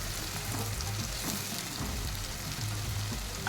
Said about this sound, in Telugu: అవి మంచి గోల్డెన్ కలర్ వచ్చే వరకు ఫ్రై చేసుకోవాలి